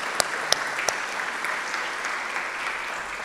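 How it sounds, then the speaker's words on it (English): A dinner audience breaks into sustained applause, dense and even clapping filling the room for a few seconds with a few sharper claps standing out near the start. "that's worth clapping for."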